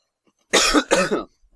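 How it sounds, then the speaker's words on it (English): A single harsh cough in two quick bursts, close and loud against silence. "I guess I'm still coughing, even 2 weeks later."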